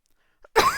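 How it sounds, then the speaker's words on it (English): A single short cough after near-silence, close and moderately loud with a brief raspy tail. "I would like the coughing to stop, though."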